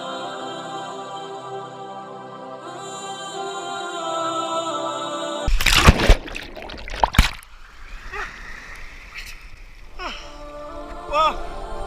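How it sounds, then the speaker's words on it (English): A person wades and splashes into cold water in freezing rain, with bursts of loud, close splashing and sloshing that follow a stretch of talking, then quieter trickling and movement in the water. "I'm going to go swimming in the freezing weather in the rain."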